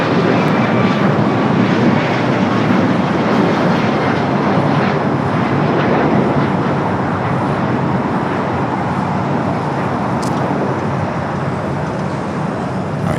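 An Airbus A380 airliner at LAX airport produces a loud, steady, broadband jet roar that holds constant throughout, near and continuous without talk.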